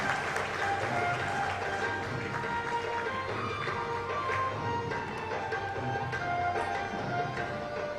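An audience at a World Yoga Day celebration claps to welcome a guest, a continuous mass of hands with a faint voice or two mixed in beneath it.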